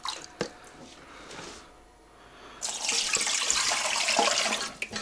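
Water pours into a steamer being filled with about 1.5 litres for canning mushrooms, starting with a few splashes and drips, pausing briefly, then rushing in a loud, steady stream for the last few seconds.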